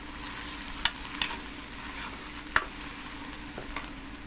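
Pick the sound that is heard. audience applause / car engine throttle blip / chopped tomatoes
chopped tomatoes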